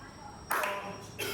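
Two sharp hand claps during a capoeira music class, a brief ringing burst followed by a second clap a moment later, close and alone with no voices.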